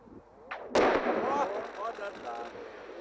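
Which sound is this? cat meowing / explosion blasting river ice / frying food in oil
explosion blasting river ice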